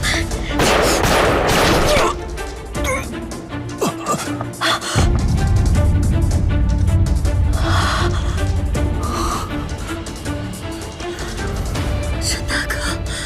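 Gunfire erupts in a tense drama standoff: loud, dense blasts crowd the opening two seconds, then a heavy rumbling burst lasts from about five seconds onward, with a gasping breath in between.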